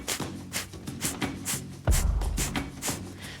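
Breath of fire pranayama done with the mouth sealed, a run of rapid forced exhales through the nose in a quick, even rhythm like panting, close and fairly soft, with one heavier thump partway through.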